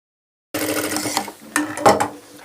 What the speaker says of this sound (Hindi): आधा इंच का मार्जिन लेकर सिलाई लगाएंगे।